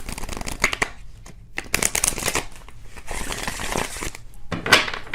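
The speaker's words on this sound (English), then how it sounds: "One more shuffle, and then we'll pick some cards here." Tarot cards are shuffled by hand in a dense, continuous run of papery riffling and flicking, close and fairly loud, with brief pauses between bursts and no one speaking.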